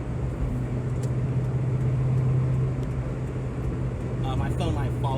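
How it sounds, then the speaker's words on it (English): A Ford Mustang Mach 1's exhaust drones in a steady, low rumble heard from the cabin, with road noise throughout and a faint passing sound near the end. "Nice exhaust."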